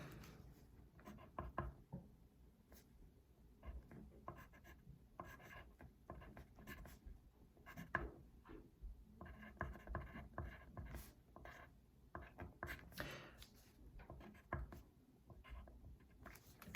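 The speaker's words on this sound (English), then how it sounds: "And now I'm going to write it out in the folk chart." Pen or pencil scratching across paper while a folk chord chart is handwritten, a quiet, steady run of short scraping strokes and taps with small pauses between words.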